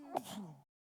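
A single short sneeze-like burst of breath and voice, close and fairly quiet, ending abruptly in silence.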